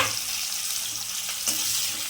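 Onions frying in oil with cumin seeds and a dried red chilli, a steady close sizzle with a brief stir or clatter near the middle and no voices.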